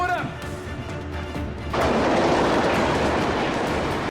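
A train in a scene from the Arrow TV series rolls along. After a brief voiced moment, a loud, steady rumbling roar of moving rail cars sets in and continues to the end.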